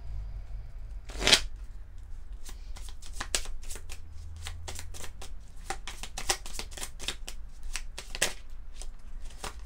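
Oracle cards are shuffled by hand up close, a run of crisp papery riffles and flicks with one louder snap near the start, with no speech.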